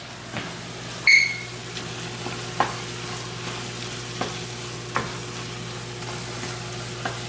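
Food frying in a pan is stirred and folded with a spatula, giving sparse, soft scrapes every second or so over a steady low hum, with one brief high beep early on.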